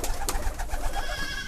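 Kept pigeons coo steadily at close range, a continuous throaty burbling that fills the short stretch with no talking over it.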